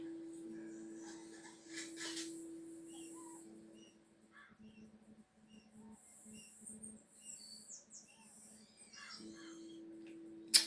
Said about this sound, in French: Oh, un petit oiseau, c'était quoi?